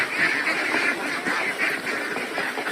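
Two-month-old ducks crowd around at feeding time, quacking and honking loudly and continuously close by as a flock, with no talk over them.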